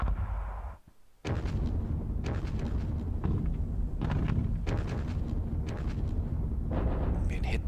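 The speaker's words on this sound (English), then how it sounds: "Been hit by loads of artillery there." Artillery fire pounds units in the wargame Panzer Battles Kursk, heavy repeated booms and bursts arriving in clusters after a brief lull, loud and close.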